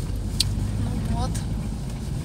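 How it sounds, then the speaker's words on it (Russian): A car drives off-road along rough village tracks, its engine and road noise a steady low rumble from inside the cabin, with faint voices at times. "Едем, короче, по бездорожью."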